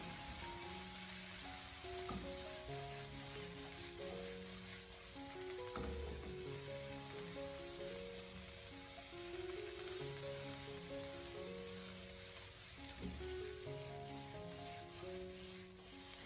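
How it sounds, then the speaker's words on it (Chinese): Bitter melon, blanched and returned to a hot wok with fried aromatics, is tossed and stir-fried, giving a steady sizzle with rhythmic scraping and clanking from the spatula throughout. "再把焯水过后的凉瓜重新回锅，然后再继续的给它翻炒几下"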